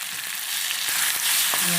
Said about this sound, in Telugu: వేసి కొంచెం బాగా ఫ్రై అవ్వాలి ఆయిల్లోనే